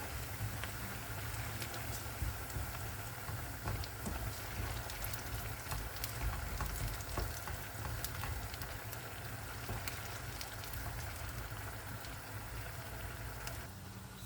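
Pepper paste and tomato paste frying in a pan for mercimek köftesi, a continuous dense crackle and sizzle, close and steady throughout, with no voices.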